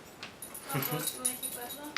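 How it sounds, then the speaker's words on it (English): Puppy whimpering faintly as it is put out of a room, brief soft whines and yips mixed with a person talking over it. "I will now kick the puppy out. Puppy coming your way."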